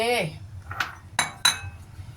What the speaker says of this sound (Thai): คนให้เข้ากัน เสร็จเรียบร้อย